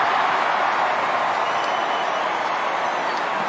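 Large Australian football stadium crowd roaring steadily and loudly, a dense continuous wall of cheering with scattered clapping and no pauses, heard close and full throughout.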